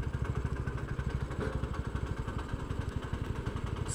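Motorcycle engine thrums steadily on a highway from Krishnanagar toward Siliguri, its rapid pulsing beat close and continuous under wind noise, with no talk.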